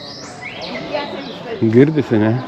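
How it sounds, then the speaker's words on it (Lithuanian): Birds chirp in a park in Spain, with a few thin, rising whistles at a moderate distance. A person then speaks over and after the calls. "O paukščių čiulbėjimas parke."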